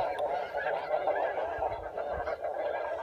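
A goose call is blown loudly and continuously during a goose hunt, giving a dense run of nasal honks that dominate the scene without pause.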